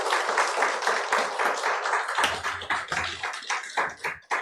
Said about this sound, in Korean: 우리 목사님께 다시 한번 감사하다는 의미로 박수 한번